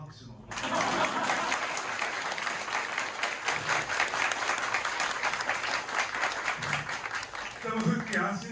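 Audience at a movie premiere stage greeting for a wrestling documentary bursts into sustained applause that starts abruptly and holds steady, with a voice speaking over the clapping in places.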